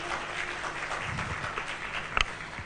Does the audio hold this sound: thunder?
no